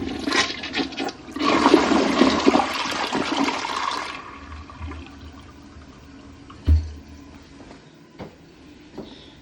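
A toilet in a hotel bathroom flushes with a loud rushing burst of water for about four seconds, then trails into quieter refilling and gurgling, with a few thumps near the end and no talk.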